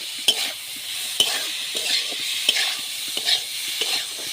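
Spices and chili powder being stirred into vegetables in a pan: a soft continuous sizzle broken by regular scraping strokes and occasional clinks of a spoon, close and alone.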